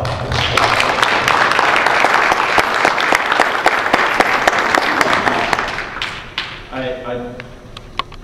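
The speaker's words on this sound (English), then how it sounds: "All right, let's give applause." Audience at a school mayoral debate breaks into loud, sustained applause, a dense clapping roar that thins out near the end as a voice begins to speak.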